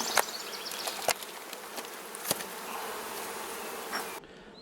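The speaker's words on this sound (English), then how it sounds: "That's a lot of bees, and that's fantastic." Dense, loud buzzing of a large mass of honey bees boiling over at a newly installed nuc hive, continuous and close, with a few sharper buzzes darting past.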